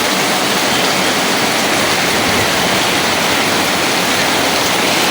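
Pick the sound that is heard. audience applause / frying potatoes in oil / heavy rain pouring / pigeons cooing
heavy rain pouring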